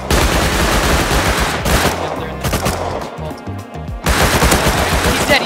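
Loud gunfire from a double barrel shotgun in the game Rust, close-range blasts and rapid shots that repeat, break off briefly in the middle with quieter noises, then resume heavily.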